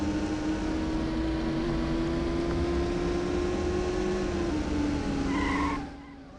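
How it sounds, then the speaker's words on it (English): Racing-game car tires squealing as rubber burns in Need for Speed II SE, a sustained whining screech over a loud steady engine roar that fades out abruptly at the end. "if you step on the gas at low speed, you're gonna likely burn rubber with these cars"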